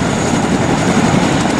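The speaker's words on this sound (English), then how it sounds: "Okay, Charlie, board the chopper now." Helicopter on an extraction, its rotor and engine a loud, steady, continuous drone with a pulsing low thump, close by and filling the moment with no talk.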